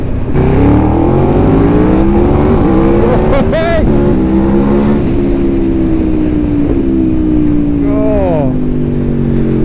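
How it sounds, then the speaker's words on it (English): An Aprilia Tuono V4 Factory V4 engine revs hard, very loud and close, its pitch rising and falling through several sharp blips, with a voice talking briefly over it. "you never ever get tired of this noise. I don't know why every engine isn't a V4"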